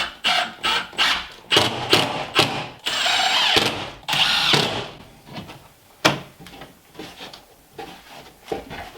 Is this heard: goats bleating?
no